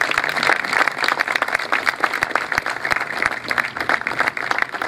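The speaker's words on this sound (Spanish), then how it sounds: "Un fuerte aplauso, chicas," An audience at an institutional event gives a sustained round of applause. The dense, even crackle of many hands clapping continues for the whole stretch with no voices on top.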